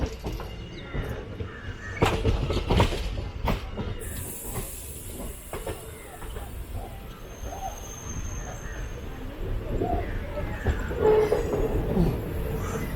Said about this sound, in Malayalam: നമ്മൾ ജസ്റ്റ് ഷൊർണൂർ ജംഗ്ഷനിലോട്ട് കയറാൻ പോവാണ്.